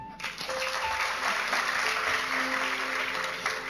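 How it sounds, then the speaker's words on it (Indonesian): A church congregation claps together during a sermon, steady dense applause filling the room for several seconds at moderate volume. "Oke, tepuk tangan."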